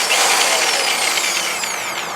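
Skil power drill driving a bulb auger into garden soil, a loud close whirring drone with a bright grinding hiss that holds steady over about two seconds.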